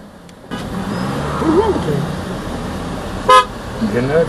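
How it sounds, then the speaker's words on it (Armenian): A car horn gives one short, loud honk near a home parking spot, cutting in over a person talking nearby with faint street hum underneath. "Տեսար սիգնալ տվեց"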